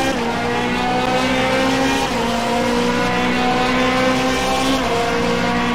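Onboard a Brazilian stock car racing at Misano, the engine drones loudly and continuously with a steady, slowly shifting pitch, a brief lift around the middle, and no voices over it.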